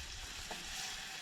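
Food frying on a hot plate at a beachside overnight stop, giving a steady, close sizzle with soft crackles and no talking.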